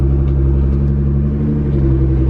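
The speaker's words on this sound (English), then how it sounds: "I'm literally pulling up to my house in a real life Hot Wheel, on a real life Hot Wheels track" A real full-size car built as a Hot Wheels replica rolls onto a life-size Hot Wheels track, heard from inside as a loud, steady engine rumble with a low droning hum throughout.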